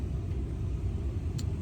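A truck engine rumbles low and steady close by as it pulls up and parks, a continuous idling drone with no voices.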